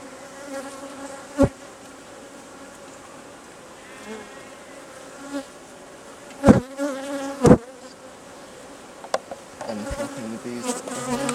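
Steady insect buzzing from many honeybees close by at a hive, a continuous drone with a few sharp knocks and bumps breaking through now and then.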